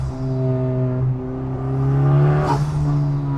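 A front-wheel-drive Type R with about 300 kW revs hard through third gear on Cape Town roads, a loud, steady close-up engine note rising in pitch, briefly dipping near the end, with no talk.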